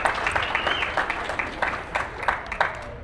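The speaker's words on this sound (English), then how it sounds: "Big round of applause." Scattered audience clapping at a WordPress conference event in Arizona, fairly faint with distinct individual claps popping out irregularly rather than a dense roar.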